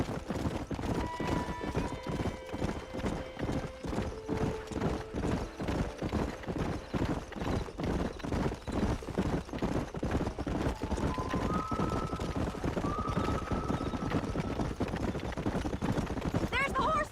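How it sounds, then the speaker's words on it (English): Horses gallop in the Western video game Red Dead Redemption, a rapid, steady clip-clop of hooves running throughout, with drawn-out whinnies rising above it at intervals and people talking over the hoofbeats. "There's the horses!"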